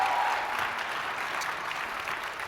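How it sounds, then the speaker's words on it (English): Audience applauding a panel of three, a soft, even wash of clapping heard from a distance, fading slightly toward the end. "Can we just have another round of applause for these three superheroes?"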